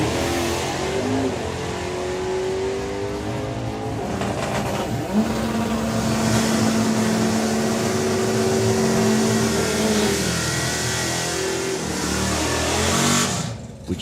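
A drag racing car accelerates hard down the strip at the FIA/FIM Euro Finals, a loud, continuous engine roar with rising revving tones that holds steady for most of the run before dropping away at the end.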